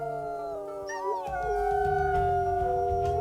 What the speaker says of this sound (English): We'll let everybody howl their hearts out.